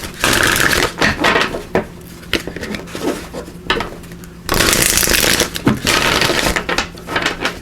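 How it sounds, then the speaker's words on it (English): Power of Surrender oracle cards are shuffled close up, with repeated crisp riffling and slapping bursts separated by brief pauses, and one long dense rustle midway. "let me just give these a quick shuffle."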